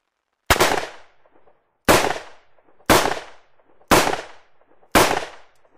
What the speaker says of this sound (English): Let's continue with the 357 Magnum revolver, an exceptionally powerful handgun.